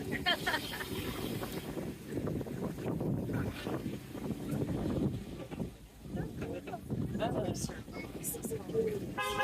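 Open dune scooter rolling across the Silver Lake sand dunes on a Mac Woods Dune Rides tour in Michigan, a steady rumbling engine and wind buffeting the microphone throughout, with people talking over it.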